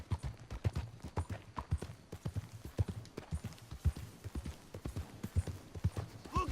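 Galloping horse hooves in Red Dead Redemption 2, a quick steady run of close, crisp clip-clop beats that continues throughout at moderate volume.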